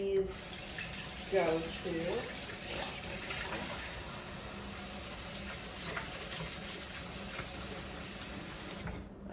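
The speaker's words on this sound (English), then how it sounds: "Constant hand washing." Hands are washed under a running tap in a kitchen, a steady close stream of water hissing throughout, with brief splashes early and a voice speaking over it.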